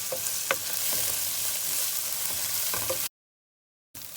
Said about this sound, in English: Once our onions started to get golden brown, we've added our ginger garlic paste, and we're going to saute that